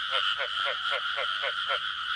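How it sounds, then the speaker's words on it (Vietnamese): Frogs croaking in a field before dawn, with a rhythmic run of about eight evenly spaced croaks over a continuous high trilling chorus, close and loud with no talk. "Bạn thấy ếch kêu không?"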